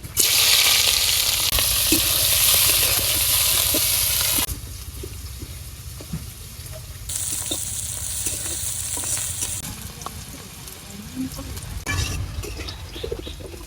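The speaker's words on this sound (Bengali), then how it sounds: "এখন আমি লাল শাক ভাজা বয় দিমু কড়াইতে তেল দিয়ে দিলাম পেঁয়াজ কুচি রসুন কুচি কাঁচামরিচ কুচি" Onion, garlic and green chili sizzle hard in hot oil in a wok, loud at first, then quieter frying with light stirring scrapes and clinks of a utensil.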